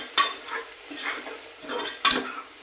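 Cabbage and chana dal being stir-fried in a pan for a bhaji, with a soft sizzle broken by a couple of sharp spatula knocks against the metal and light scraping in between.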